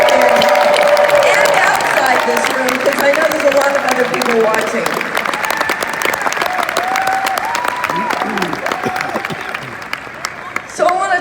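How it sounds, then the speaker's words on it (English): Loud, sustained applause and cheering from a large crowd at a Star Wars Celebration Chicago panel for The Mandalorian, filling the whole stretch while someone speaks over it through amplification. "a huge applause for all of you in this room"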